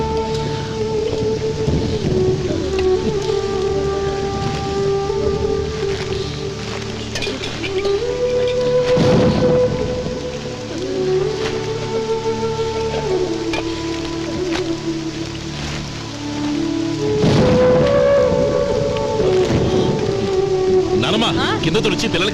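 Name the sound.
heavy rain with thunder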